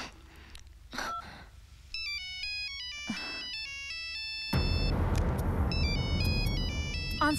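A melodic electronic phone ringtone chimes in repeated bright phrases, clear and near, joined partway through by a loud rushing noise underneath.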